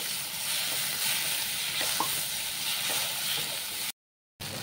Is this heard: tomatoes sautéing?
yes